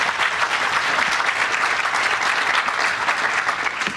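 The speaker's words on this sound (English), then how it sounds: "Can we give them a round of applause?" An audience applauds a panel at a conference, dense sustained clapping from many hands filling the room evenly from start to finish.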